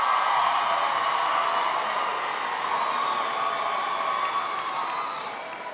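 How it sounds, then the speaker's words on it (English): A large crowd at a presidential town hall in New Orleans cheers and claps in a loud, sustained roar that eases slightly toward the end. "There's a feisty crowd here."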